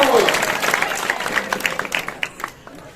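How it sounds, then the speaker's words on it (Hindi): An audience claps at an outdoor Ram Leela performance during the Sugriva and Bali battle episode, starting as a dense burst and thinning into scattered individual claps that fade over three seconds, with no talk. "तालियां तालियां।"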